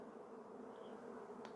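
A honey bee swarm produces a steady, dense buzzing drone from many bees, continuous and fairly faint throughout, with no voices.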